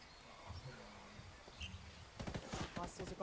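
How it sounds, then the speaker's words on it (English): Gunfire in the Ghost War PvP mode of a tactical shooter video game, a rapid burst of sharp shots erupting over the last second after a quieter stretch of faint background ambience. "Shooting at us now."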